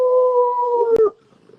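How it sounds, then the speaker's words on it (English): A dog gives a single sustained, steady-pitched howl lasting about a second, loud and close, ending abruptly before near silence. "sorry, that's my dog."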